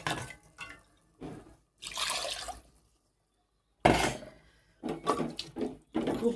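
Water poured into a pot of sautéed dal in a home kitchen, arriving in several separate splashing bursts with a silent pause between them, close and fairly loud.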